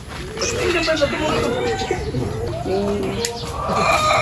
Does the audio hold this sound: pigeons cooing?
yes